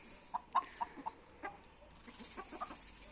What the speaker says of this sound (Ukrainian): У мене іспанський півник Д'Артаньєн.